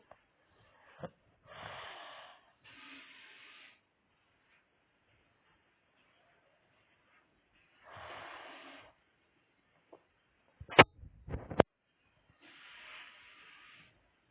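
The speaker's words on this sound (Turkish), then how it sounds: "Bir nefes alıp bırakıyorum." Someone breathing in and out close to a microphone, a few soft airy hissing breaths spaced out over quiet, with some brief clicks and handling noises in between.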